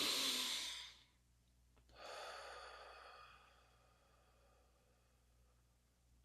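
A deep breath in a quiet room, one long inhale followed by a softer exhale, close and faint, with no talking.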